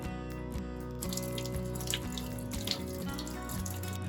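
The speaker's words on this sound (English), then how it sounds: "So first off, we better wash our vegetables." Water runs from a kitchen tap while vegetables are washed: a steady rushing stream into the sink beneath a low hum, with the splashing getting louder and busier after the first second.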